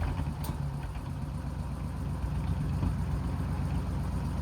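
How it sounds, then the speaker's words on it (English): A 1940 Ford Deluxe convertible club coupe engine idling steadily with a little throttle applied while the top operates, a low, even rumble held close and constant with no talk. "A little bit of throttle to help it along."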